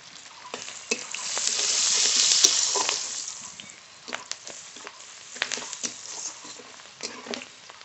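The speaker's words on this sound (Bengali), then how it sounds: "পেঁয়াজটা একটু ভাজা ভাজা হয়ে গেছে" Onions fry with turmeric powder in a pan, a continuous close sizzle and crackle with scattered scraping stir strokes, swelling briefly then settling; no talking.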